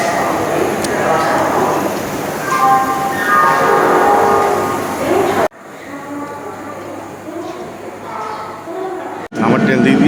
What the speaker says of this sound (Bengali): আমার ট্রেন দিয়ে দিয়েছে।